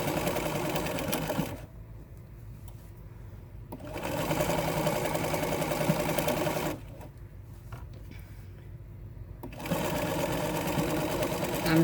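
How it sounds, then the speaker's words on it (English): A sewing machine runs slowly over pinned fabric while making clothes, stitching in three steady bursts separated by short quiet pauses, close and clear. "I'm sewing over my pins, but I'm going slow and being careful"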